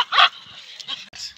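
A large dog weighing about 70 kilograms barks and yips at a dog park: a sharp near bark followed by shorter whimpering yelps in quick succession.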